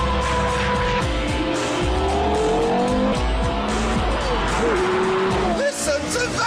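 Porsche Carrera GT with its race-derived 5.7 litre V10 driving hard, loud close engine howl with rising and falling revs through gear changes, tyre squeal and skidding mixed in, plus a voice speaking over it.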